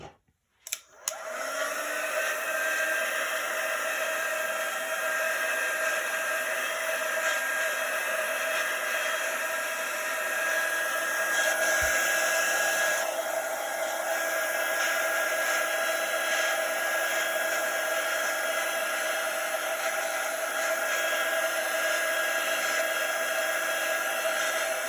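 A hair dryer blows over chalk paste on a decorated egg, giving a steady, close, unbroken whooshing whir with no talking.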